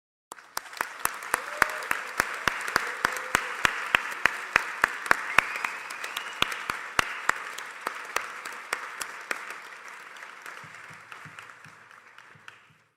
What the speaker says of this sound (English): we will do then what we're going to do right now, which is applaud you for the amazing graduates that you are